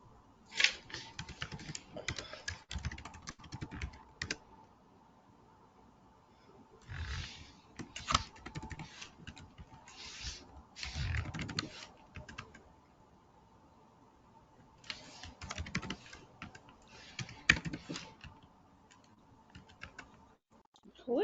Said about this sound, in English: Who is that typing?